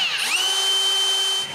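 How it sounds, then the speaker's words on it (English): A power drill boring a small hole in a wooden table leg, a steady high whine that rises and settles after a brief start, running close and alone before cutting off. "now I need to drill a small hole for the center screw"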